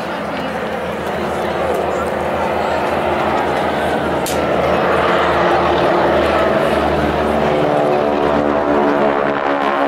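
Propeller aircraft performing at the Clacton Air Show, with wing walkers sitting on the leading edge of each wing: a steady, loud engine drone with a rising whine, continuous throughout.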